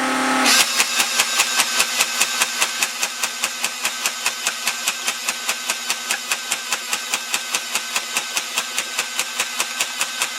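The motor of a modified Nerf Vulcan toy blaster starts abruptly and keeps whirring at high pitch with a rapid, steady mechanical clicking pulse throughout, loud and close.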